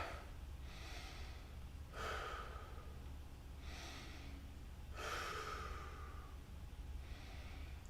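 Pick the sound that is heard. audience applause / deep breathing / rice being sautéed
deep breathing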